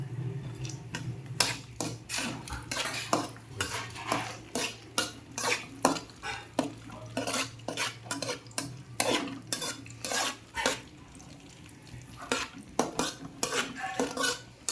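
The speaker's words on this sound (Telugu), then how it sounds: "ఇందులో డ్రై ఫ్రూట్స్ని వేయించుకుందాము" Dry fruits frying in a pan for bottle gourd payasam, with repeated sharp metal spoon scrapes and clinks against the pan over a low steady sizzle, fairly close and with no talking.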